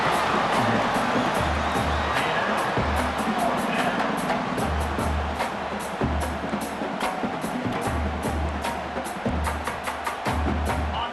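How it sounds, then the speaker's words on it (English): A college football video game crowd cheers steadily on third down in a Rose Bowl playoff semifinal between Wisconsin and Texas, a continuous roar with rhythmic low thumping throughout and no talk over it. "3rd down, and the crowd really getting into it."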